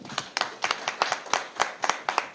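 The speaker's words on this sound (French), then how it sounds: "je vous prie de l'applaudir, s'il vous plaît" A small group clapping, sharp irregular claps in quick succession, brief and fairly close, with no talking.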